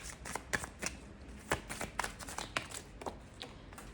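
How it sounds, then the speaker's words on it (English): Tarot cards being shuffled by hand during a love reading, a crisp run of riffling snaps and soft card-on-card taps at an irregular rhythm, close and fairly quiet, with no talking. "I'm chopping cards again, I'll just pause."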